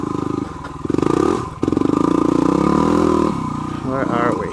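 A 2008 Yamaha WR250R dual sport motorcycle engine runs steadily while riding, with engine pitch rising and falling through the gears under continuous nearby talking.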